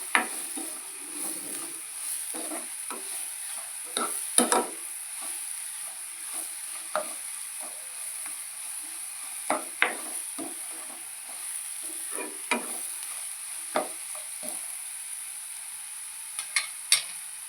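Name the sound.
chicken curry frying and being stirred in a pan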